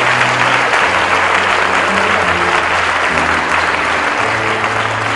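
Loud, sustained applause and cheering from a church congregation acclaiming God as king, a dense continuous wash of clapping with crowd voices mixed in throughout.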